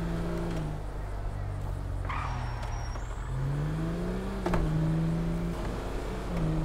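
Car engine revving in GTA 5, a Toyota Land Cruiser, with the engine note rising and falling in steady sweeps, moderately loud and alone, with a brief higher whine in the middle.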